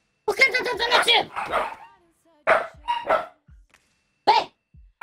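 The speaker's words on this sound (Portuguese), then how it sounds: "Por que você tá latindo, meu filho?" A dog barks in several sharp, close bursts separated by short pauses, with a yip or two.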